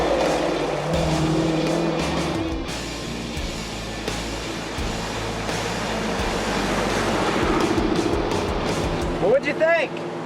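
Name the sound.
twin turbo Challenger and Hellcat cars racing at the track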